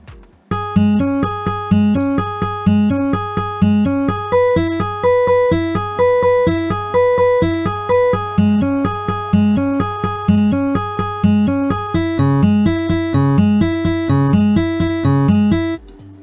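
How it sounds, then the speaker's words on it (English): A clean, dry guitar picks a steady arpeggiated chord pattern over a sustained low note, bright and close, with no effects, for about sixteen seconds. "just a guitar playing the same chords"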